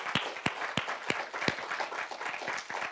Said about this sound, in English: To all our fathers, a hand clap right now.